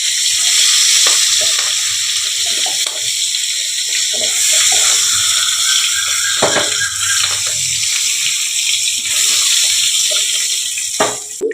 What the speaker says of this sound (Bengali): মাছগুলোকে আমি হালকা ভেজে নেব।